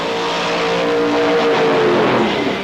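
Rover Pro Mod drag car with an 11.5 litre, 1800 horsepower nitrous-injected engine, a loud continuous engine roar with a rising revving tone that holds steady for the whole stretch, no voices.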